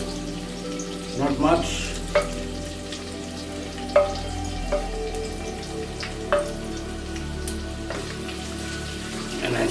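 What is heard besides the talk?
potatoes frying in hot oil in a pan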